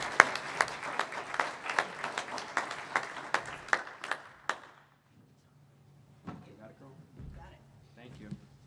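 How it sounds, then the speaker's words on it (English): At the Carroll County Small Business Awards, a small audience claps for Lynn Wheeler with sparse, sharp, distinct hand claps that fade out after about four seconds, followed by quiet room sound and a few faint voices. "Give her a round of applause."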